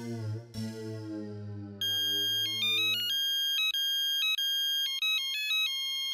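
A phone ringtone plays while a call is placed, a bright electronic melody of repeated beeping tones that starts after a sustained tone and rings loud and clear on its own.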